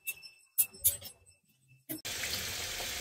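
Potatoes rinsed in a bowl of water at a kitchen sink while cooking aloo dum: a few light clinks and splashes, then a steady, fairly loud rush and slosh of water filling the last third.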